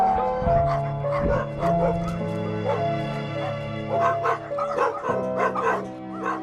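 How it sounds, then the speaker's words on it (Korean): A dog barks nearby inside an abandoned house, giving a few sharp yips and whimpering barks over a steady tonal hum, fairly loud and close throughout. "가까이서 개 짖는 소리가 들립니다"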